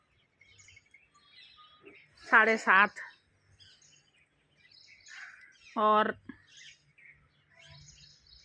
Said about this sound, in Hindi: देखो इस तरह से चिड़ियाएँ सब चहचहाने लग गई